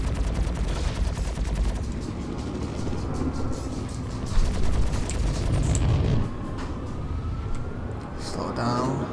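Spaceship guns fire in rapid repeated bursts during Star Citizen space combat, a dense clattering barrage with a heavier thump partway through, while someone talks over the shooting.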